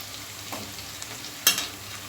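Potatoes and onion fry in a pan with a faint, steady sizzle, broken by a couple of soft stirring scrapes and one sharper clatter near the end, with no talking.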